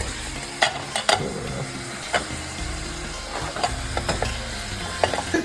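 Chopped bacon frying in a covered pan gives a steady, close sizzle, with scattered sharp pops and clinks of stirring throughout. No one speaks.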